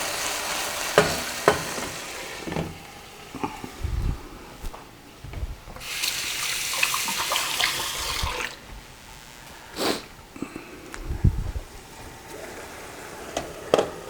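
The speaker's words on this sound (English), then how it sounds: "this is boiling right now" Okra stew (khoresht bamieh) cooking in a pot gives off a soft bubbling and sizzling, broken by intermittent stirring and scraping knocks at close range, with no voices.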